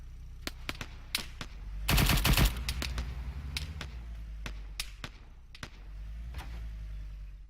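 Gunfire in a military video game running Vcom AI: sharp single shots and short bursts scattered throughout, with a dense, loud automatic burst near the middle over a steady low background rumble.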